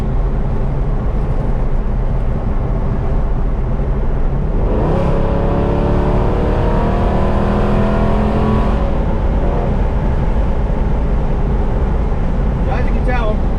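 A Dodge 5.7 Hemi R/T rolls along with its windows down, a loud steady engine and road roar filling the cabin, rising with a revving surge midway, while someone talks over it.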